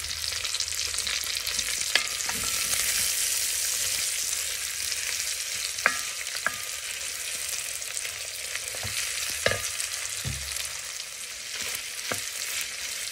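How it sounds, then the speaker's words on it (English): Sausage and bacon fry together in a soup pot, a steady broad sizzle running throughout with sharp scraping clicks and knocks from a spoon stirring and mashing the meat at intervals. "So just continue stirring and cooking and mashing up that sausage into smaller pieces."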